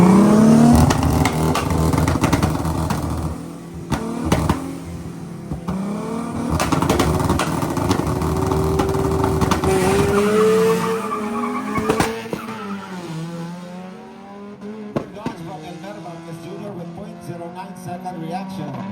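A Honda Civic and a Nissan Skyline R33 drag race, with engines revving hard through rising pitch sweeps and gear changes, tire squeal and passing roar. A commentator talks throughout.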